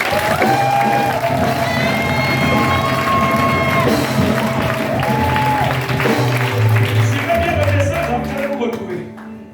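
A Pentecostal church congregation applauds and cheers in praise of the Lord, steady dense clapping with shouts and sung voices over music, loud throughout and fading in the final second.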